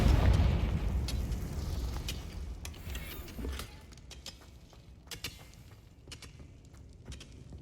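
A Confringo spell explosion in Hogwarts Legacy booms loudly at the start and rumbles away, followed by scattered sharp crackles and pops.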